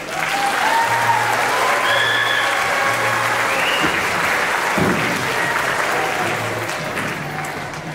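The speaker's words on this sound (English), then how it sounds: "So again, give them another round of applause." Audience at a middle school spring band concert applauding the student band, a sustained, even roar of clapping filling the hall for several seconds, with faint tones and voices beneath.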